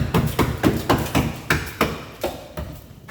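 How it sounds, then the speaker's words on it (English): Repeated hammer blows knocking on metal while a dirt track Toyota Camry race car is built, about a dozen sharp, fairly close strikes in an uneven rhythm with no talk. "Hammer."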